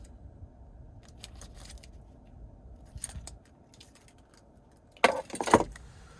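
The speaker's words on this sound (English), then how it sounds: "here's the key fob with remote start" Someone handles the key fob of a 2027 Hyundai Santa Fe Hybrid SEL with a few faint light jingles over a low car-cabin hum, then one louder, sharper burst of metallic jangling near the end.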